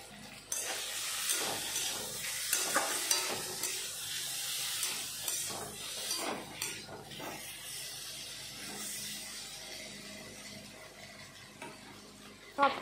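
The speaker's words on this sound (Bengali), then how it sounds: "সব কিছু ভালো মতন ভাজা হয়ে গেল" Taro stems frying in a pan with salt and chili powder, giving a steady sizzle with repeated stirring scrapes and clatters, close and fairly loud throughout with no talk.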